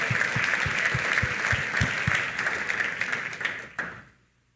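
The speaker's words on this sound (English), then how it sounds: "please join me in giving Julie and Lance a round of applause." Audience applause at a leadership speaker event, dense steady clapping with a few louder individual claps, building then tapering off and fading out near the end.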